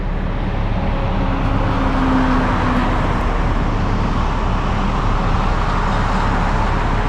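Tree service trucks pulling in with a wood chipper in tow during a large ash tree removal in blizzard conditions, a loud steady engine and road rumble that stays close and constant throughout with no talking.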